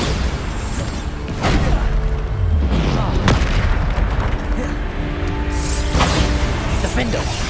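Blasting-spell explosions in a Hogwarts Legacy battle on PS5 boom repeatedly, with a deep low rumble, several bursts and pops in quick succession over continuous combat noise.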